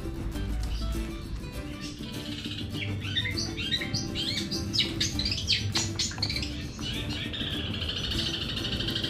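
A caged long-tailed shrike sings a lively run of chirps and warbled phrases, fairly loud and close, over a steady background hiss, with no talking.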